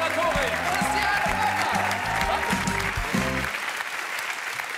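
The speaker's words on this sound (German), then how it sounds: "Dieser Applaus" Loud, sustained applause from a large television studio audience, dense and continuous, with a musical jingle playing over it before it thins out.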